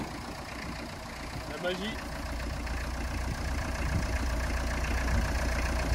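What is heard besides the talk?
camper van engine idling after restarting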